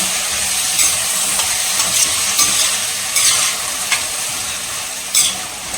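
Carrot and beetroot sauté with ginger garlic paste in a pan, a steady close sizzle with occasional sharper spoon scrapes and stirs over the constant hiss, no voices.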